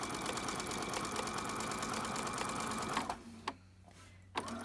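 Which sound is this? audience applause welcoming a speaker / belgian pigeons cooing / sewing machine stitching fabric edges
sewing machine stitching fabric edges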